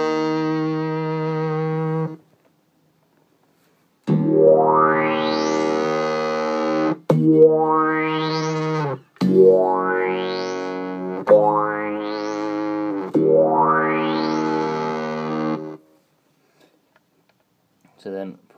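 An electric guitar runs through a Microsynth pedal with its rate knob set low, each held note swelling upward in a slow synthetic filter sweep; five sweeping notes follow an opening plain tone, separated by short gaps.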